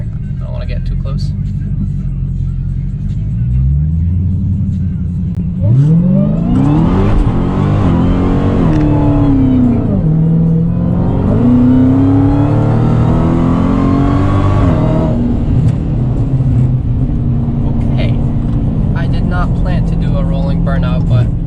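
A Dodge Hellcat does a burnout, its engine roaring loud and close with rising revs and surges of sustained rumble, while a person talks over it.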